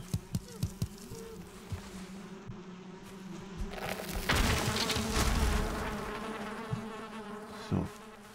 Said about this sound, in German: Ich höre doch irgendwo Bienen.